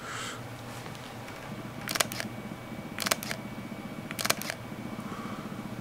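Three crisp mechanical shutter clicks from a Leica M11 camera after a firmware update, brighter and higher in tone, spaced about a second apart over quiet room hiss.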